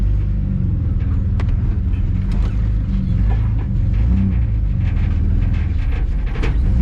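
A Ford AU Falcon drift car reversing with its differential locked gives a loud, steady low drivetrain drone with creaking, ratcheting mechanical clicks running through it, close and continuous with no talk.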